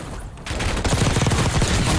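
PPSh submachine gun firing in Call of Duty Warzone (Black Ops 6), a close, loud continuous rapid-fire burst of rattling shots after a brief lull.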